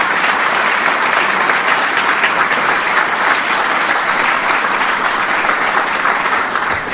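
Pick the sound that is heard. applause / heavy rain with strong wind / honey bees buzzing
applause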